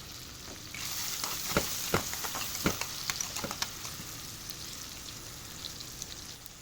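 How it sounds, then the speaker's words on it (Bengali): Chopped onions fry in hot oil in a wok, a steady close sizzle scattered with crackles and sharp clicks of stirring. "তেলটা গরম হয়ে আসলে আমি এখানে পেঁয়াজ কুচি দিয়ে দিলাম"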